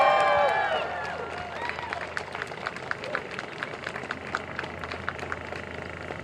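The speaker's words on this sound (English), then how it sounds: "I reckon that sign needs a round of applause." A rally crowd for refugees applauds outdoors after someone's voice trails off at the start, with loose, moderately distant clapping and scattered cheers continuing steadily.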